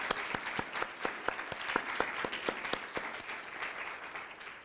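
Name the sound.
audience applause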